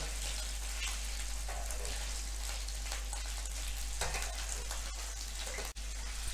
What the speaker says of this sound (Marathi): असं थोडं थोडं तेल घालत तापलेलं तेल घालत दोन्ही बाजूंनी छान बांगडा भाजून घ्यायचा